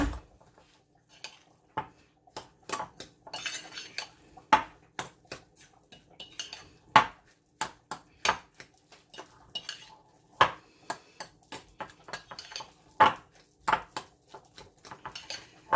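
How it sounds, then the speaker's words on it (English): A utensil stirs panko breadcrumbs into a vegetable pancake batter in a bowl, making a quick, irregular series of sharp clinks and scrapes against the dish. The sounds are close and fairly quiet against a silent background. "I'm going to be giving this a stir."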